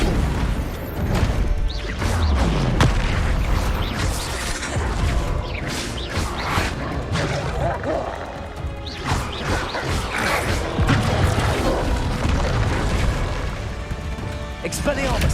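Combat in the video game Hogwarts Legacy, with the Flipendo spell cast among other spells, brings loud, dense booms, crashes and bursting impacts under almost continuous talking, with shouted spell names woven through.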